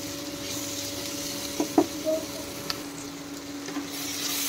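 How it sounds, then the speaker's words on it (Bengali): Vegetables for restaurant-style fried rice fry in a pan while being stirred and mixed, giving a steady close sizzle with a few scraping clatters of the spatula against the pan, with no talk. "এখন নেড়ে চেড়ে ভালোভাবে মিশিয়ে দেব আমি"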